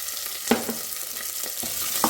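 Potato and green chillies sauté in a pan for a vrat thali khichdi, giving a soft, constant sizzle broken by a few light clicks from stirring.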